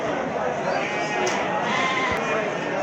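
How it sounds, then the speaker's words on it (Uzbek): Sheep and lambs bleating in a noisy pen at a sheep market, overlapping calls near and far, with people talking over the flock. "Mana ko'ryapsizlar, mana qo'zilari bor."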